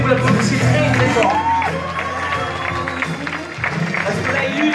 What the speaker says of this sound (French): je voudrais que vous l'encouragez, que vous l'applaudissiez très très fort